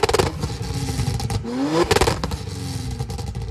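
Tuned BMW M135i running on methanol, with a loud, close exhaust roar that rises and falls through revs, plus some rattling clatter mixed in.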